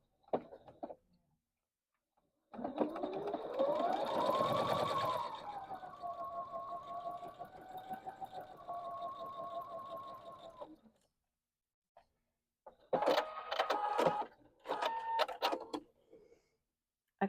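Home sewing machine stitching fabric half square triangles for a quilt block, a whirring motor run of several seconds rising then holding pitch, followed after a pause by shorter bursts of stitching, close and without talk.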